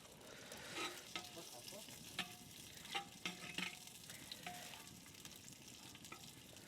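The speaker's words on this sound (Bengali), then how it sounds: "এবার পেঁয়াজটাকে হালকা একটু ফ্রাই করে নেব আমরা।" Onions fry in a pan with whole spices, a soft continuous sizzle with a few clanks and scrapes of a stirring utensil, fairly quiet, no talking.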